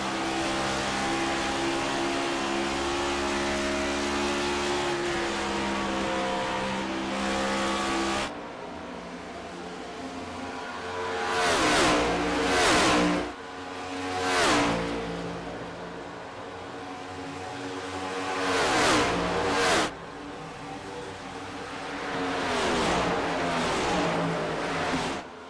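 Onboard engine of race car 67 in an ICON Cup Series race at Indianapolis: a loud, sustained high-revving roar, then repeated upshifts and rising acceleration pulls with brief lifts between them.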